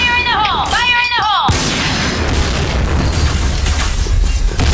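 A grenade blast in the shooter game Piercing Blow lands as a single loud boom with a rolling, noisy tail that carries on for several seconds. Brief tonal in-game chirps come just before it.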